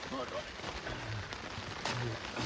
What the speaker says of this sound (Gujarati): વરસાદ હવે ફૂલ આવવા મળ્યો છે